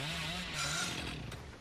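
The Hillbilly's chainsaw in the video game Dead by Daylight runs with a steady, buzzing motor drone, loud and close, holding its pitch for under two seconds.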